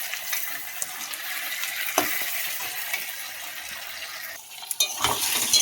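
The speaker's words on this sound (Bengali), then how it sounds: "মা বাসন মাজে গেছে, তাই আমি খুন্তি চালাচ্ছি" A spatula stirs and scrapes taro and potato frying in a pan, with a constant oil sizzle and sharp metallic clacks against the pan, and a heavier clatter near the end.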